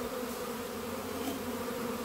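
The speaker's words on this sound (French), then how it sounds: "je vais secouer mes abeilles par terre" Honeybees shaken out of a nucleus hive onto the ground hum in a dense, steady drone, a close, sustained buzzing with no pause and no voices.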